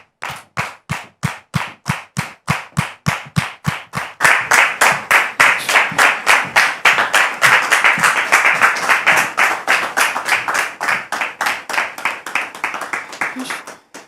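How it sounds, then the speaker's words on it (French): Studio audience on a French talk show clapping in rhythm, slow even claps that quickly swell into dense loud applause with cheering, then taper slightly toward the end. "merci de recevoir notre invité du jour sous vos applaudissements,"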